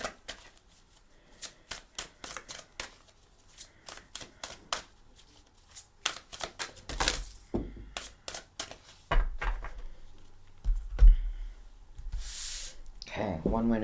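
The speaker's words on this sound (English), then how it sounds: "I'm going to shuffle for your cards instead of pulling off the top." Tarot cards riffled and shuffled in quick rapid bursts, crisp flutters of paper close by, with a few louder thumps and rustles toward the end.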